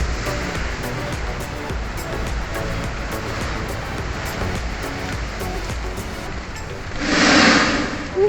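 Low-tide ocean waves wash onto a rocky stretch of Brisbane coastline near a lighthouse, a steady broadband roar with a louder surging break near the end.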